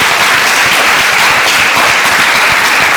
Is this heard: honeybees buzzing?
no